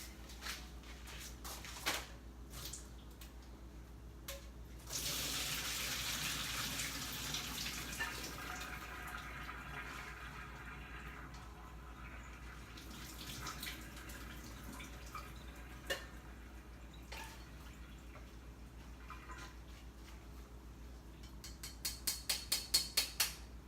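Cooked pasta water poured out into a kitchen sink, a steady gushing splash for several seconds, then quiet with scattered clinks and a few drips, faint and without talk.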